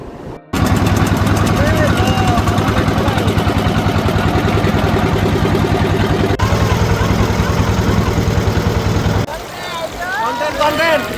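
A trawler boat's engine runs close and loud with a steady, rapid mechanical knocking, continuous throughout, with voices talking over it and a brief dip in the level near the end.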